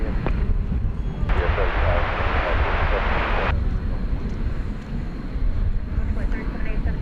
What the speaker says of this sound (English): American Flight 446 to San Francisco just went by there